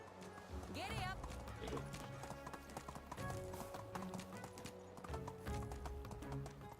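Horse hooves clip-clop in a steady rhythmic gait while riding in the Medieval Dynasty video game, with a brief neigh near the start, game music underneath and someone talking over it.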